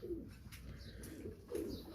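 Breeding pigeons coo softly in a loft, with low, faint, repeated coos over light background noise.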